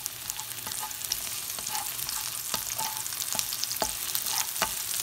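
Chopped onions fry in hot cooking oil with a continuous crackling sizzle and frequent sharp pops and spatters, close and fairly quiet, with no talking.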